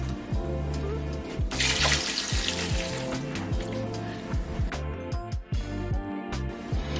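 Water is poured into a pot of cabbage, a steady splashing flow close by, over a background of low rhythmic tones and knocks.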